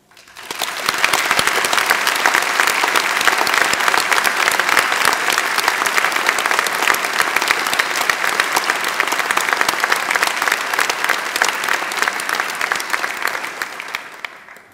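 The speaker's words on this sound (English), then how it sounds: "I'd really like to actually everyone to give a round of applause for the families here who have supported everyone today" A large audience at a Milton Keynes degree ceremony applauds the families in strong, sustained clapping that swells quickly, holds evenly for over ten seconds, then tapers off at the end.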